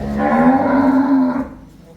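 A buffalo lets out a single loud, deep moo close by, lasting over a second before fading into quiet.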